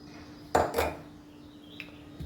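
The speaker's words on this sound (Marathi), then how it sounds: "पाणी उकळलं चांगलं" A metal dhokla plate is set into a kadhai of boiling water, giving two close metallic clanks in quick succession followed by a faint tap and a low steady hum from the stove.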